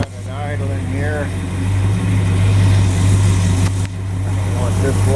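A car engine fitted with an Edelbrock AFB carburetor idles steadily at around 800 RPM, a constant low hum running throughout while someone talks over it.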